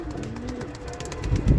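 Racing homer pigeons at a loft coo softly in a steady, rhythmic series, close by, with a slightly louder low coo at the end.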